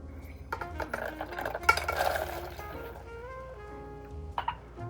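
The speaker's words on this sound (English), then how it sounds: "Just going to stir this around to coat all of our pecans" A spoon clinks and scrapes against a bowl while pecan pieces are stirred into a sticky keto bar mixture, soft irregular taps and rattles, quiet and close.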